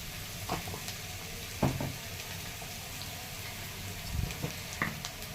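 Okra and potatoes sautéing with spices in a pan, giving a steady low sizzle with a few sharp stir clatters and spoon knocks scattered throughout, close up and without talk.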